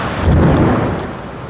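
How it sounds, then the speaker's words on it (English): Thunder rumbles outside during a storm, a loud low rolling boom building and fading over a second and a half, with rain hiss and a few sharp crackles above it. "we're starting to thunder and lightning out there"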